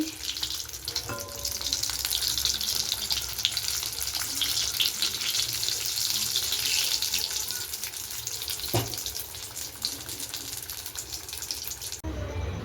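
Continuous oily sizzling of potato chops frying in a wok, steady and close, with a couple of faint clicks and a sudden cut near the end.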